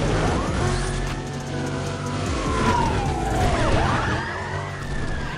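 A police car siren in the video game Need for Speed Undercover wails and sweeps up and down over a steady engine hum, cycling continuously with no talking.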